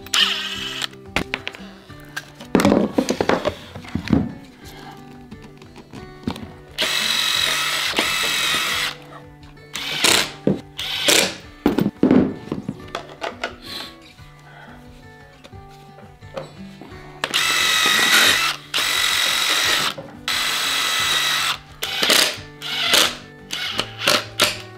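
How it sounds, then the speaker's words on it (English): A power drill in short whirring bursts backs out three screws holding a flange on a 4-inch dust collection fitting, each burst loud and close, separated by clicks and handling noise. "can just unscrew these 3 screws here, pull out the flange"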